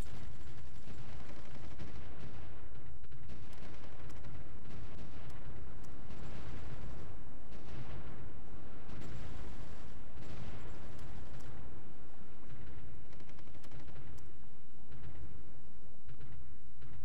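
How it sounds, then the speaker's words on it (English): Artillery fire in the strategy game Supreme Ruler: The Great War, a dense, continuous rumble of overlapping booms and distant blasts that swells and recedes for the whole stretch with no talking over it. "Our artillery is just going crazy here."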